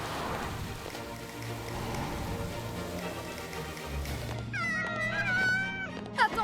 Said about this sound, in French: Attention au petit chat!